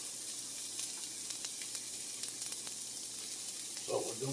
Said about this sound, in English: If you guys can hear the sizzle.